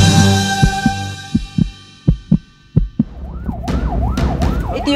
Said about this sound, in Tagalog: Ito yung video sa loob ng ambulansya habang itinatakbo ang isang lalaki patungo sa ospital.